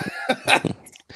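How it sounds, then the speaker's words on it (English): Several short, harsh coughs in a quick cluster, close by, followed by a brief throaty rasp. "No, I was just coughing."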